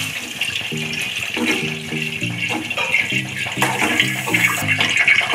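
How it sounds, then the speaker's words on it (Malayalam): Milk pours steadily into an uruli vessel for payasam, a continuous liquid gush and splash heard under background music. "1/3 പാൽ ഒഴിച്ച് കൊടുക്കാം"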